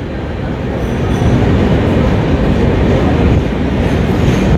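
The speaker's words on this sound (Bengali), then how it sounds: "এই যে নীলাচল এক্সপ্রেস ঢুকে গেছে হিজলির 1 নম্বর প্ল্যাটফর্মে" Neelachal Express, the 12875 Puri–Anand Vihar train led by a WAP-7 locomotive, pulling into platform 1 at Hijli station: a loud, steady, close rumble of wheels and carriages throughout.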